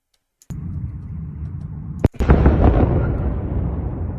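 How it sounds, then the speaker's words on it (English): An explosion in wartime Ukraine: a sharp, loud blast cracks out after rumbling background noise, then a heavy, sustained roar and rumble rolls on, close and powerful, with no talk. "So you can hear the explosion."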